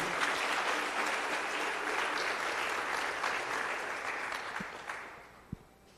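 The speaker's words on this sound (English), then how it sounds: "Please can we give Tshireletso another round of applause?" An audience applauds a camping retreat founder after his talk, steady clapping at first that gradually thins and fades out, ending in a few last isolated claps.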